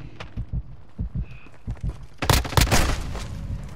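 Rhythmic thumping heartbeat from a heartbeat sensor in Call of Duty: Modern Warfare, a steady series of low pulses, followed by a louder burst of game noise.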